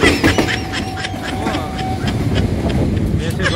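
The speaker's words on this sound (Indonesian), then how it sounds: "1 kereta buntung melintas di perlintasan JP5 Angke." A commuter train rolls through the JPL 5 Angke level crossing in West Jakarta, a steady wheel rumble with faint clicking, while a sustained tone rings for a couple of seconds near the start.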